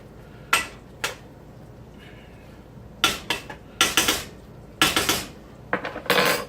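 Metal cutlery clanks and scrapes against a pot while stirring cooking rice with red pepper flakes, in several short bursts of sharp knocks separated by quiet gaps.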